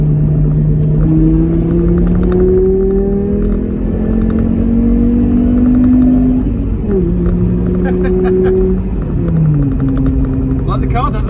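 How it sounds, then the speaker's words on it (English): A Volvo 850 car accelerates hard in second gear toward a motorway, its engine note climbing steadily in pitch, dropping briefly, then rising again, loud and close from inside the cabin. "second gear acceleration, then onto the motorway"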